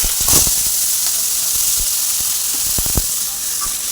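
Pieces of green mango sizzle and hiss sharply in hot oil with panch phoron, loud and close, with brief crackling bursts and a couple of spoon clatters.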